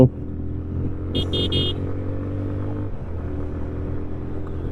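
A Yamaha FZ-25 motorcycle engine drones steadily throughout while braking, with three short, high beeps sounding in quick succession early on.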